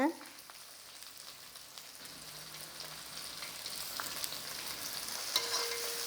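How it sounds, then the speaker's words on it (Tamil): Onions sautéing in oil in a pan for a Tamil prawn gravy, a faint soft sizzle with occasional light stirring scrapes, quiet and without talk. "பாருங்கள் இந்த எண்ணெயிலே நல்லா வதக்கிடலாம்"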